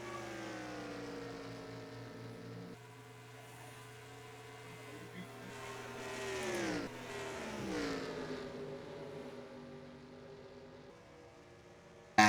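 Race cars lapping a track in NASCAR Racing 2003 at Kansas, engines droning and sweeping past with rising and falling pitch, a steady mid-level roar under faint background commentary.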